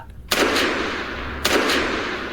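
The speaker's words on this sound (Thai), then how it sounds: "เสียงปืนนัดหนึ่งแว่วขึ้นจากที่หนึ่งที่ใด" Gunshot sound effects in a narrated Thai hunting story about a demon bear, with two sharp booming shots about a second apart, each followed by a ringing echo tail, loud and without speech.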